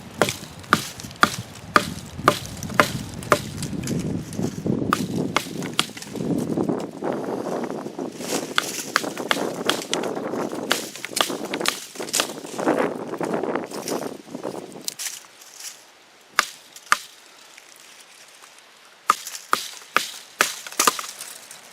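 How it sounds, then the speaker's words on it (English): A small fixed-blade knife batoned through a thin standing tree outdoors, with repeated sharp wooden knocks at an irregular pace and the crackle of splitting wood, close and loud, then a few final separate strikes. "I'm going to see if I can baton through this little tree here and take it down"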